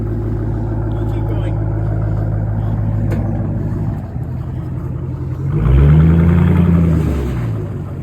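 A car revs hard with a low rumbling engine, then a louder surge near the end as the tires spin and squeal against the pavement. Voices talk over the engine throughout.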